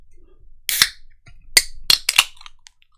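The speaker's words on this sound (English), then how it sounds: "so I've got a can of Stowford Press." Can of Stowford Press cider being cracked open: a sharp metallic snap with a brief hiss, followed by several quick, crisp clicks close to the microphone.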